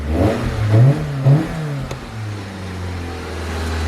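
A Toyota AE86 Levin engine idling just after a slow start on a low battery, with two short revs early on and then a steady, fairly loud idle hum.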